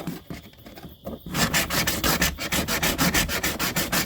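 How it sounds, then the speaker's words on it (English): Layered glue is shaved and scraped off a foam panel up close, first in irregular scratches, then in a quick, regular series of rasping strokes, with no talking. "You can peel, it's actually shaving the glue off."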